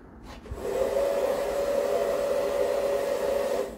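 A bubble machine's steady motorized whir like a small blower fan starts after a click and runs continuously at a constant pitch, fairly close, outdoors in wind.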